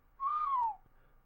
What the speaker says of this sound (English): let out a low whistle